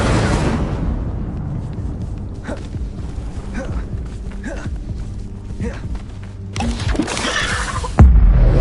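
Incendio fire spell cast in Hogwarts Legacy, a loud rushing burst of flame and magical whoosh followed by crackling rumble, then a fresh surge of roaring fire and a heavy thump near the end.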